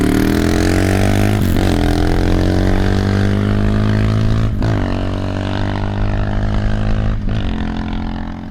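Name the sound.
Herald Brute 500 motorcycle riding on rough surface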